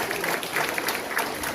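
A gathered audience at a party members' rally claps for a mayor after his lecture, a brief burst of dense applause sustained throughout with a faint voice beneath.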